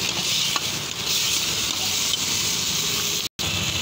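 Chilli manchurian sauce with vinegar, food colour, tomato ketchup and green chillies is stirred and sizzling in a hot pan, a steady bright frying hiss throughout with faint scraping, close and continuous.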